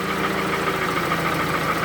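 Knocking 2AZ engine in a Toyota Camry that has worn pistons, running steadily with a dense mechanical clatter and rhythmic tapping over a constant engine drone, close and loud, with no voices.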